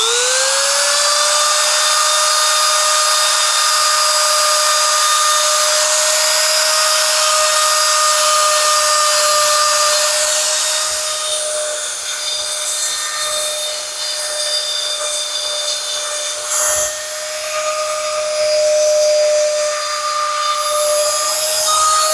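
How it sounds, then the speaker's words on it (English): A high-pitched power tool whines steadily as it grinds the edges around the belt slots of a custom leather holster, loud and close, with the tone briefly dipping and catching midway before it carries on. "So I'm going to give it a little grind around there."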